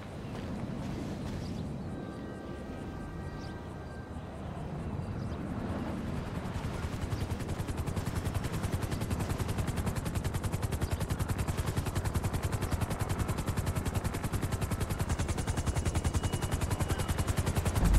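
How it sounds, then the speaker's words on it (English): A helicopter arrives in Grand Theft Auto V amid a dense, steady roar with rapid rotor-like chopping that grows louder and holds constant, close and loud, with no talk. "A helicopter has been dispatched to your location."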